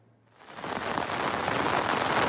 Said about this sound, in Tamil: மாவட்டங்களில் ஒரு மணி நேரத்திற்கும் மேலாக பரவலாக மழை பெய்தது